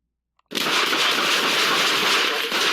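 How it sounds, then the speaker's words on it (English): Police gunfire recorded on bodycam during a fatal shooting of a man hiding in a car's back seat, a sudden sustained loud burst of sharp reports after a brief silence, dense and harsh with no talking. "5 shots after the other guy stopped shooting and this guy's on the ground."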